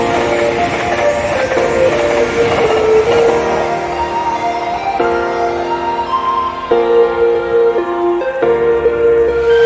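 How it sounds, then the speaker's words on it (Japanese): A Shinkansen Nozomi bullet train pulls in at Hakata Station on the Sanyo line. A loud rolling rumble carries sustained tonal whines that shift in pitch as the train slows, heard up close with no talking. "山陽新幹線の博多駅なんですけど、のぞみ179号が到着しています。"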